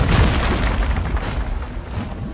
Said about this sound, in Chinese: 这有几个爆炸着石， 我们来把它引爆一下